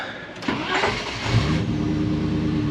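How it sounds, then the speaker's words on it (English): Range Rover Classic engine catching and settling into a rough, loping idle set too low, uneven and close by, with no voices. "One of my viewers commented that it sounded like it was an 800 horsepower drag racer because it lopes."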